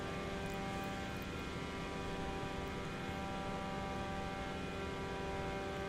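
Engine drone of an Emerald MiniMax 1500R Sport ultralight in Microsoft Flight Simulator 2024, a steady, even propeller hum with strong tonal harmonics, held at a constant pitch and fairly quiet throughout, no talk.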